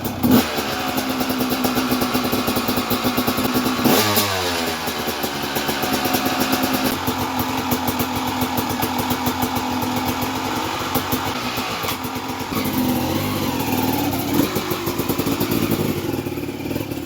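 Supercross motorcycle engine running loud and close on a dirt track, idling and revving with a sharp throttle blip and falling pitch sweep partway through, steady engine drone throughout.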